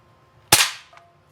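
A single sharp shot from a Crosman Legacy 1000 .177 air rifle cracks out loud and close, its bright burst fading quickly, followed a moment later by a faint small impact on a can.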